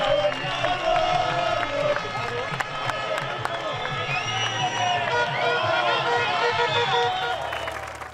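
Thousands of Spanish fans cheer loudly and continuously at the Jarama circuit after a European truck racing championship win, a dense crowd roar with shouting and whistles sustained throughout.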